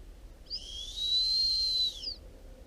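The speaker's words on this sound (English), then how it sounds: "I just call it my attention whistle." A gundog training attention whistle gives a single sustained, high, pure tone of about a second and a half, clear and close against a quiet outdoor background.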